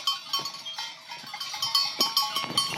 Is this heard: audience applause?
no